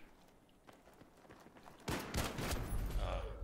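Video game gunfire: a quiet stretch of faint taps gives way to a loud burst of rapid, dense shots that keeps going to the end.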